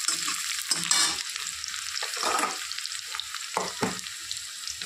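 Chopped onions sizzling in a hot pan with cumin, continuous close frying crackle punctuated by bursts of stirring and spatula scrapes, no talking.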